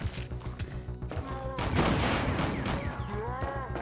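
Explosive rounds fired in a Resident Evil 2 mod video game: dense rapid gunfire and booming blasts that swell into a sustained roar, loud and close, with a voice speaking over them.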